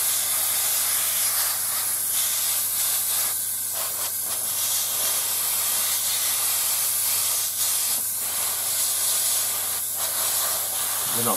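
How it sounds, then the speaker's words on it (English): Steady, continuous aerosol spray paint hiss runs without pause while painting a 1/72 scale model Mustang's bombs, a dense airy rush close by with slight fluctuations and no talking. "Right, so I'm just going to spray up the"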